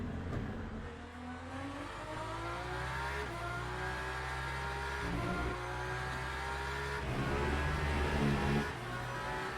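A race car in the Le Mans Ultimate video game at the Portimão Algarve circuit holds a loud, steady engine drone heard from close up, with its pitch rising and falling through gear shifts across the lap.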